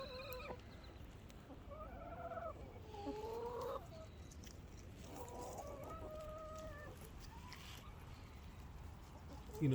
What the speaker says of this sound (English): They're all different types of chickens.